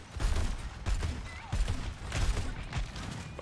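Overwatch gameplay gunfire crackles in a rapid series of bursts, several thumping shots in quick succession at a moderate level, with faint background game noise between them.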